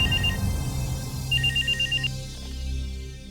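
A telephone ringing late at night, two bursts of rapid electronic trilling rings with a quiet gap between them, close and clear over a low hum and no talk.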